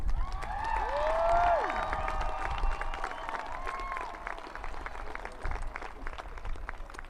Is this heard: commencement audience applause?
yes